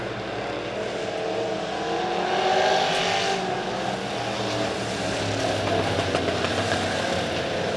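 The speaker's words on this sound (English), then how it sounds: "Ian Morissette struggling in that 38 car" Midwest modified race cars roar around the Springfield Raceway oval, a loud steady engine drone that swells as the pack passes, with no talk over it.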